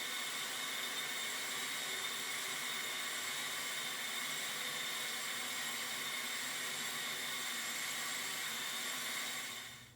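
An electric mixer runs on high speed, beating angel food cake batter, a loud steady whir that holds unbroken for about ten seconds and then fades out at the end.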